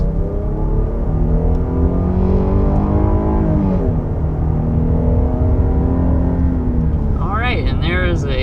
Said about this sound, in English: there is a acceleration up to 60 miles per hour with this 2022 Grand Cherokee L